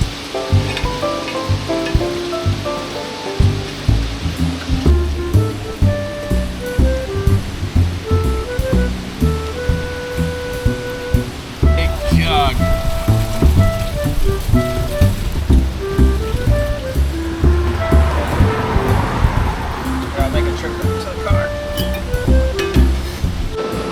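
Artesian spring water pours and splashes steadily into bottles for a long stretch, with clinks and mechanical rumble underneath and brief tonal hums.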